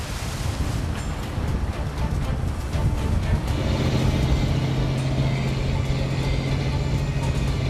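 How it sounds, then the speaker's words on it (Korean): Rough sea and strong wind batter a small fishing boat off Ulleungdo, a continuous loud roaring wash with a steady engine hum emerging partway through. "파도가 많이 쳐가지고 작업하기 힘들 것 같아요."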